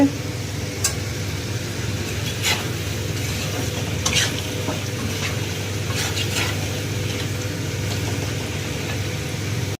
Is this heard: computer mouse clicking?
no